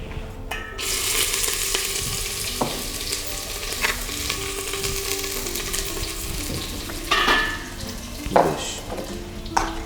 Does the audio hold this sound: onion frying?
yes